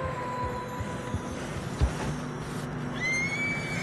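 A horse whinnies briefly in Red Dead Redemption 2, amid a windy, droning snowy outdoor background, with a faint thud and a rising tone near the end.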